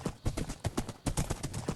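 Horse hooves clip-clopping in a Bronze Age–inspired video game world, a steady trotting rhythm of about a dozen crisp, close hoof strikes at an even pace, with no talk over them.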